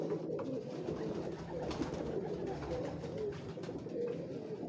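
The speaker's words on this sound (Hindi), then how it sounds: "ये कबूतर आप देखें" Pigeons coo on a Lahore rooftop, soft throaty calls repeating over a steady murmur of flock noise and a few faint sharper chirps, close and continuous.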